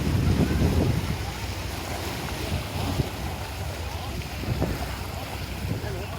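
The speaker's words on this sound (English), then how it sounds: "You can hear the natural sound of ocean." Steady roar of ocean surf at a Hong Kong swimming shed, with blustery wind buffeting the microphone, continuous and fairly loud throughout.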